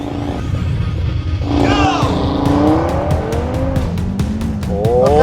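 Audi RS3 and Tesla Model 3 launching side by side in a drag race, with engine roar and rising revs building loudly over a few seconds, alongside tire noise and a sustained rush of road and wind sound.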